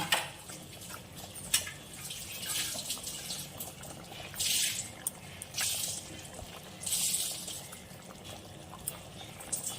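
Tengra fish drop into a boiling, bubbling curry broth in a pot, giving soft liquid splashes and burbling with a few louder hissing bursts, fairly quiet overall with no talking.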